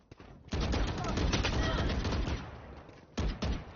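Rapid bursts of automatic gunfire in the shooter game Valorant, heard loud and clipped through game audio with a short pause before a final burst.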